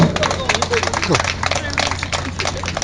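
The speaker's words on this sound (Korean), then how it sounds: "여러분 다시 한번 큰 박수로 분을 축하해 주시기 바랍니다" An audience claps loudly and rapidly at a celebration honouring an elderly mother, with many hands beating in a dense, sustained burst while voices murmur underneath.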